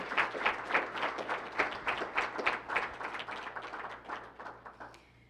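Applause for honorees at the Premio Campeón Compasivo award ceremony, a smaller crowd clapping in clearly separate rhythmic bursts that thin out and fade toward the end.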